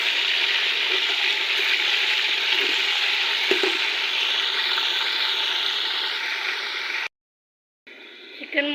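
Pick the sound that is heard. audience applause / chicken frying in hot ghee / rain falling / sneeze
chicken frying in hot ghee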